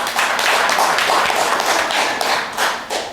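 An audience at a Ground Zero Lounge event claps in a dense, continuous burst of many hands, loud and close, with a few louder slaps near the end.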